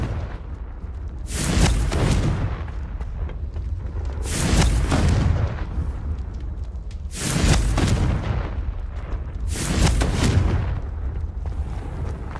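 Confringo blasting spells explode in Hogwarts Legacy, four heavy booming blasts a few seconds apart, each with a roaring, rumbling tail, loud and close, with no voices.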